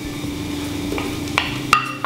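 Onion, ginger and garlic sauté in a pan with a steady close sizzle, and a couple of sharp metallic clinks from a spoon striking the pan near the end.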